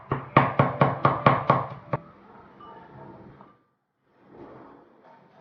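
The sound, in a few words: knife chopping garlic into minced garlic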